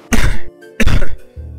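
A cartoon character in a Bengali fairy-tale cartoon coughs twice, voiced as loud, close, rough throat-clearing bursts with a short pause between them.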